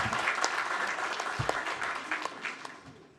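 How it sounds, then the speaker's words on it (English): A council meeting audience gives officers a round of applause: a steady wash of clapping from a modest crowd indoors, fading toward the end. "If you can have a round of applause for the officers."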